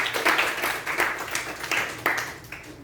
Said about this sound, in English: Give a round of applause to Ishan